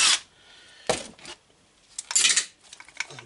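Metal crankcase bolts from a torn-down, blown-up Stihl MS660 chainsaw dropping out in a few separate clinks and rattles, close and fairly quiet, with pauses between them.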